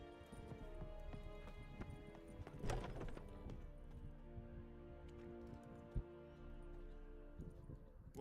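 Roach, the horse from The Witcher 3 video game, gallops with quick, even hoofbeats over a low, steady game soundscape, with one sharp knock partway through.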